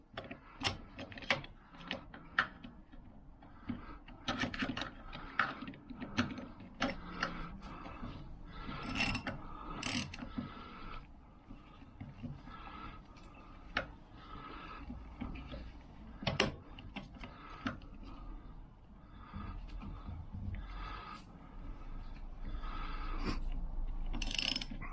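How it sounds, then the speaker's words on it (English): Ratchet wrench working on the clutch of a Lambretta Series 2 scooter, a run of sharp close clicks and metallic ticks in uneven bursts over a low workshop rumble. "Make sure the ratchet's in tighten mode."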